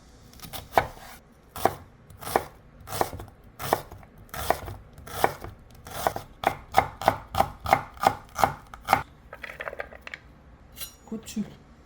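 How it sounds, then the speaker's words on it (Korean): A knife finely chopping chili peppers and onion on a cutting board for a beef gochujang stir-fry, with steady, close rhythmic knife strikes that speed up, then a few softer handling sounds. "고추하고 양파 먼저 잘게 한번 썰어 볼게요"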